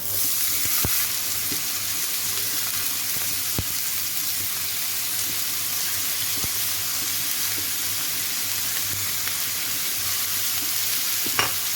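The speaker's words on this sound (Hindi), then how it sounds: "गाजरों को इसमें फ्राई कर लूँगी" Carrots frying in melted sugar in a pan for a Kabuli pulao, a steady close hissing sizzle with a few faint clicks of stirring, no voices.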